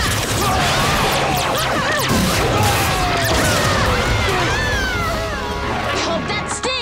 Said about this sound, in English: Dino Morpher Blast.